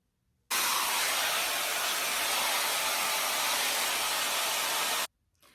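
A hair dryer fitted with a diffuser dries curly hair, a steady loud rushing blow that starts abruptly, runs alone for about four and a half seconds, then cuts off.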